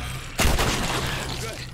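A single loud gunshot booms in The Last of Us video game. It strikes sharply and then rings out with a decaying tail over low game ambience.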